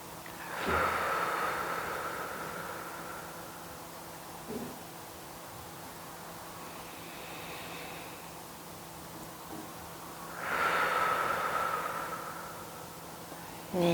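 Slow, deep breaths during a yoga session, two long soft exhales about ten seconds apart over a faint steady background hum.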